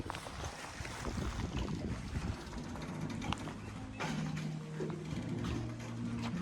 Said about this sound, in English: Here's the ferry.